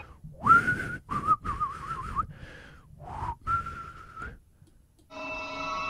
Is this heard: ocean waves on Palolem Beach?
no